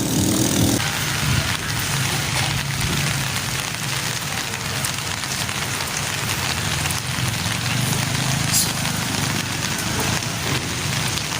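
Steady, heavy rain falls close around someone walking home from the market in the countryside, a dense continuous hiss with no voices.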